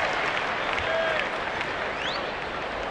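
A crowd at a San Diego vs San Francisco baseball game on Labor Day applauds steadily, a dense, continuous wash of clapping and cheering with a few faint whistles.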